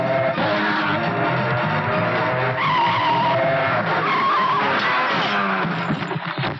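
Car tires screech in a loud, sustained skid as a car turns around in a scene from the 1997 comedy film Judwaa. Engine noise runs under the continuous squeal.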